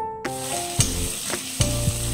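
Peanuts frying in hot oil in a pan, with nigella seeds and garlic paste about to go in, giving a continuous sizzle broken by a few sharp stirring scrapes and clinks.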